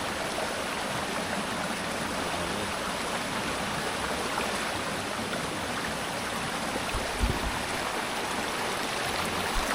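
A small stream fed from a river flows steadily nearby, a continuous close rush and babble of water with no voices.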